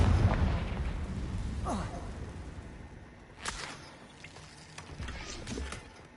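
A spell blast in the Hogwarts Legacy video game lands with a sharp burst, followed by a few crackling pops that fade against a steady rumbling game background.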